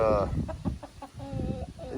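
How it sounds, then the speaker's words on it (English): Chicken vocalizations, a breeding rooster's call followed by soft clucks, heard at moderate distance over a low background rumble. "Now, we also got this rooster right here."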